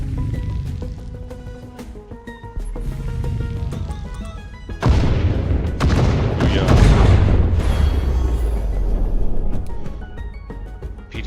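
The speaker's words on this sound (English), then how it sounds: "Missile is in flight. Enjoy that missile." A missile explodes in the video game Deep Rock Galactic: a sudden heavy boom erupts midway through, then a loud rumbling blast with crackling debris sustains and slowly thins out over several seconds, following quieter game sounds.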